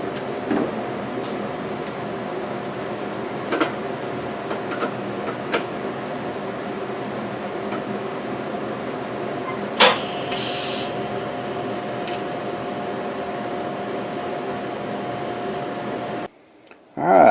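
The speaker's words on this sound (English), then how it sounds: "I'm using a process called TIG welding" TIG welding on the metal part of a machete handle: a steady, even electrical hum with a faint crackle that runs for most of the stretch, then stops abruptly near the end.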